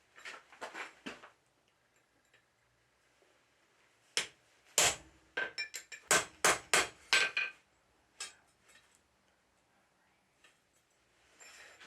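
A blacksmith cuts a square tenon slot in a bar for a toasting fork, with sharp ringing metal strikes in an irregular burst, a few isolated hits, then a quick cluster of blows near the middle.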